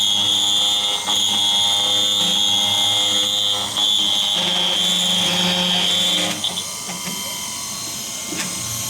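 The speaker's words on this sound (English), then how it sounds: "now the machine's going to do all the countersunk pockets" A ShopBot CNC router mills countersunk pockets into plywood, a loud, steady, whining machine drone with a sharp high tone that shifts pitch as it moves between cuts, then eases to a lower hum.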